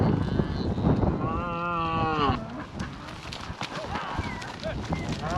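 Cattle being pushed down a mountainside on a cattle drive give a drawn-out moo amid steady outdoor rustle and hoof movement, with riders on young horses nearby and a voice briefly heard.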